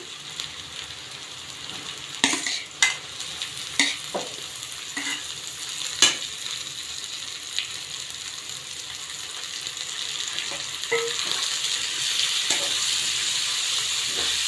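Prawns stir-fry in a hot pan with a continuous close sizzle, punctuated by sharp scrapes and knocks of a spatula against the pan, with no talking over it.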